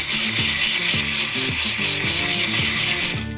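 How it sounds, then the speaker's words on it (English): Gold pay dirt rattles and scrapes through a quarter-inch classifier screen, gritty rhythmic shaking strokes repeating roughly every half second, close and loud with no talking. "This is my 1/4 inch classifier, and this is pretty easy to classify."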